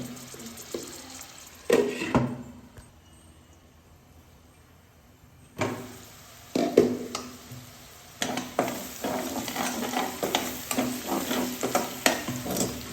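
Onions frying and being stirred in a pan until soft, with scraping spoon strokes over a steady sizzle, a quiet pause midway, then denser, more continuous stirring near and moderately loud.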